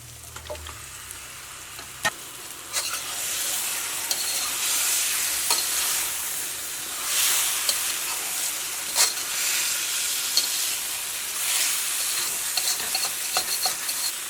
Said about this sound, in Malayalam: അപ്പോൾ ഇനി നമ്മുടെ ചിക്കൻ ചേർക്കാം